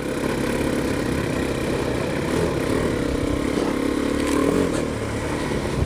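A KTM 390 Adventure motorcycle runs off road in wet mud with the revs held high, giving a loud, continuous, close engine drone that swells slightly near the end, with no talk.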